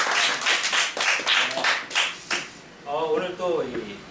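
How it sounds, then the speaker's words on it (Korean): Studio audience at a Korean book talk show applauding to welcome a photographer guest, a steady burst of clapping for a couple of seconds that fades as a host begins speaking. "박수로 환영합니다."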